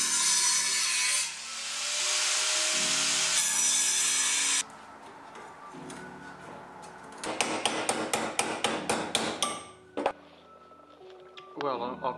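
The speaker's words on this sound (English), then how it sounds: "I'm going to cut that bit of fiberglass away and create a little bit of a heat shield" Fiberglass on a kit vehicle being cut away, a loud, close, sustained cutting noise followed by a quicker series of sharp rhythmic strokes and knocks, with brief talk in between.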